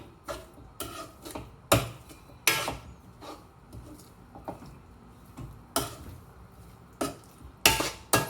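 Beetroot halwa mixture being stirred in a pan, a spoon clinking and scraping against the metal in irregular sharp knocks over a soft background, with no one talking.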